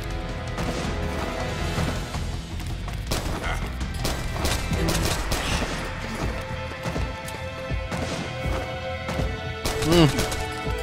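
Mark 23 pistol gunfire in Metal Gear Solid 4: Guns of the Patriots, a run of sharp shots over a dense, busy game soundscape with crashes and impacts, the firing steady and close throughout.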